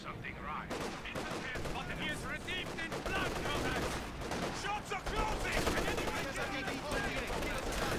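Sustained MG-34 machine-gun fire in Company of Heroes 2, rapid bursts layered with other battlefield gunfire and explosions under an excited commentator's voice throughout.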